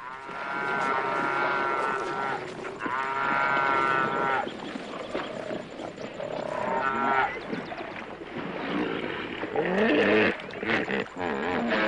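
Wild lions give loud, drawn-out moaning roars in several bouts, with hippos near them on an African plain, the calls overlapping and rising again toward the end.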